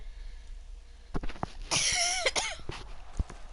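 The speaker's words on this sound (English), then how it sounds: "Sorry, I had to cough." A person coughs a few times in quick succession during a live-streamed game session, close and fairly loud over a quiet room.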